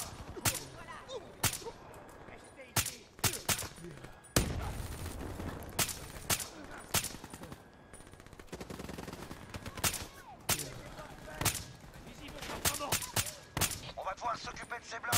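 Gunfire in the PC shooter Call of Duty Black Ops 3, sharp shots cracking out singly and in quick bursts at irregular intervals over game ambience, with occasional brief voices.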